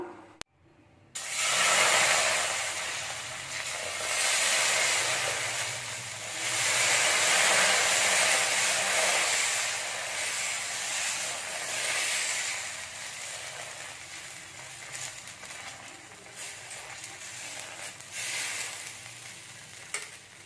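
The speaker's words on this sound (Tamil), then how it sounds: "தோசை சட்டி நல்லா சூடாயிடுச்சு இந்த டைமில் நம்ம தோசை ஊற்றலாம்" Tomato dosa batter sizzles on a hot dosa pan, a loud, continuous frying hiss close by that swells and eases in waves, then gradually softens toward the end.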